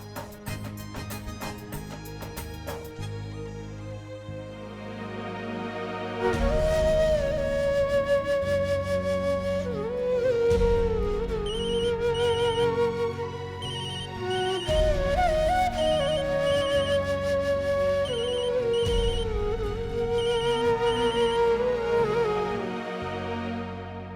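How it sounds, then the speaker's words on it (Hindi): A telephone rings repeatedly and goes unanswered in a Hindi TV drama household scene, a steady patterned ring that carries on for over twenty seconds with tonal music underneath. "अक्षरा फोन ही नहीं उठा रही"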